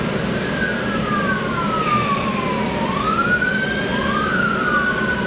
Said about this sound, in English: Now there's ambulances.